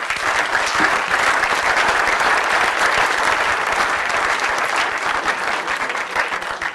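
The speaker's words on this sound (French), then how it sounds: "je crois qu'on peut les applaudir." Sustained, dense applause from a large audience at a French parliamentary gathering, steady and loud throughout without a break.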